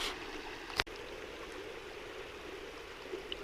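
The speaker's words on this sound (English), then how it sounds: "The beautiful river." River water flows steadily at a prospecting camp, a constant rushing wash with one sharp knock early on and a faint tap near the end.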